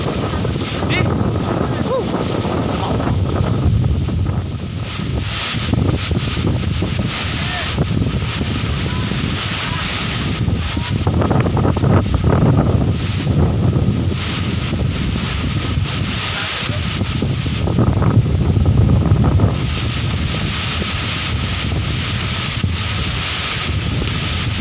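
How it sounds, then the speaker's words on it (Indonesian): Strong wind buffets the microphone in a steady roar along the coast of Ende, with surf and waves surging underneath throughout, and people talk intermittently over it. "Anginnya sangat kencang guys, sampai mendorong tubuh tidak bisa maju."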